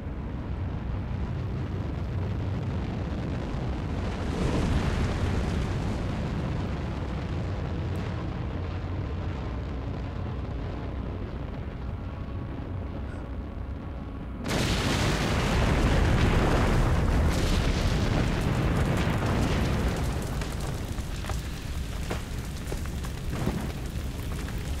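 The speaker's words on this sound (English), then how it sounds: "Oh, that's going to be the explosion, I guess." Deep rumbling blasts from a game explosion, with a sudden louder burst midway followed by a sustained roaring aftermath.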